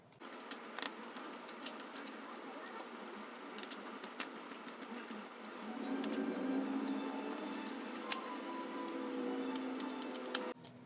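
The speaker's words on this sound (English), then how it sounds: "go ahead and unscrew them out here" Screwdriver backing small screws out of the back shell of an ASUS ROG Ally handheld, a run of faint close ticks and clicks with a soft grinding stretch midway, no talking.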